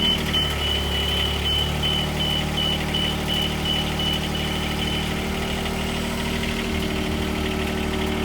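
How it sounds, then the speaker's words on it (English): A Jibbi aerial lift machine self-levels and starts lifting its boom, its engine humming steadily at moderate volume with a faint intermittent high beep over the motor drone. "We're then going to notice the machine's going to automatically self-level and we'll begin to lift."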